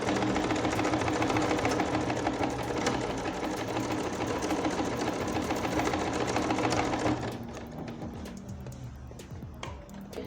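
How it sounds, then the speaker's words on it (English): Domestic sewing machine stitching a buttonhole automatically, a fast continuous rattling hum that runs loud for about seven seconds, then drops to a softer, lighter clatter with scattered clicks. "that's just how to use this automatic buttonhole maker"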